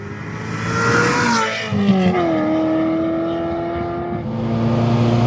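Ferrari 348 Spider engine revving while driving, loud and close as the pitch climbs steadily through the rev range, dips at a gear change, then rises again.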